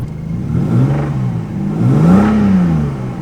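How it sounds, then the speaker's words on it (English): A Lexus IS200 engine with rod knock runs close by, its pitch rising and falling through a couple of blips of revving, with a faint underlying clatter. "Oh yeah, that rod knock."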